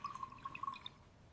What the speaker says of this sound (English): I pour a glass of milk.